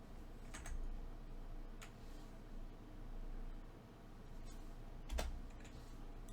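Someone types a short entry on a computer keyboard, a few quiet scattered key clicks over faint background hiss, with one sharper tap near the end.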